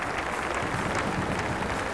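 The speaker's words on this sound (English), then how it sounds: "That's all right, you can clap for Donegal" Steady applause from a concert audience at the Ulster Hall in Belfast, a dense even wash of many hands clapping throughout, fairly loud with no voices standing out.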